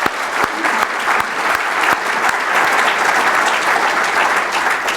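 Sustained applause from a dinner crowd at a Reagan Day Dinner in Madison County, Tennessee, honoring federal prosecutors, steady dense clapping filling the room from start to finish.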